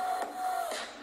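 A music track plays softly through DJay Pro DJ software on a laptop's internal sound card, a faint bright wash with a steady tone and soft pulses, no voice over it.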